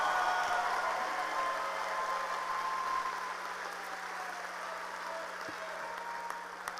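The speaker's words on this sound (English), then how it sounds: "huge round of applause." Applause from a crowd at a high school graduation, a steady distant wash of clapping with a low constant hum underneath that slowly eases off.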